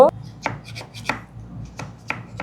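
A cake scraper works around the inside walls of a pressure cooker pot to loosen a steamed pudding, making about five sharp, separate taps and scrapes spaced across a quiet background.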